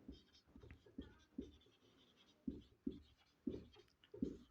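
Pen writing on paper while math is worked out, a series of short, quiet scratching strokes in an irregular rhythm, close up with no talking over them.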